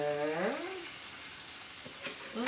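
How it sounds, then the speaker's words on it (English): Onion cooking in a pan gives a soft, steady sizzling hiss in the background, fairly quiet, with a brief tonal sound at the start. "Let the onion just cook"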